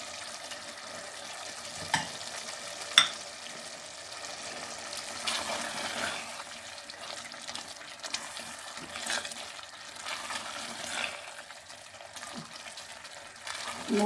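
Chicken noodles with spices stir-frying in a pan, a steady low sizzle running throughout with soft scraping stir strokes and a couple of sharper knocks near the start, fairly quiet and without talk.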